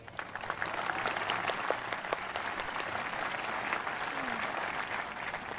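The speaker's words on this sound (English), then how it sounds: "So I want you all to give yourselves a round of applause." High school graduates applauding at a graduation ceremony, a steady dense wash of clapping from a large crowd that holds throughout at moderate distance.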